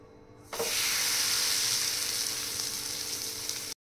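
A sudden loud sizzle as sour-leaf thalipeeth flatbread dough hits a hot oiled griddle, then a steady, bright frying hiss that continues before cutting off abruptly.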